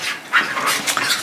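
A caged puppy makes a short run of high whimpers and yelps at close range, with a rattling chew of the cage between them and no voices.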